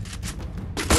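Gunfire from a shooter video game comes in a few quick, loud, close bursts packed into a single second, with no talking over them.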